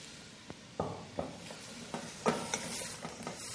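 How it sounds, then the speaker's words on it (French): Lamb meat browning in a pan with onion, oil and rancid butter makes a soft, steady sizzle. A spoon stirs and scrapes in irregular clacks about every half second, close and fairly quiet, with no talking. "je fais revenir la viande dans l'oignon, l'huile et le beurre rance"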